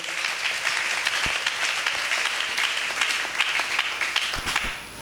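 A church congregation claps and applauds steadily, a dense wash of many hands with scattered sharper claps, fairly loud and continuous throughout.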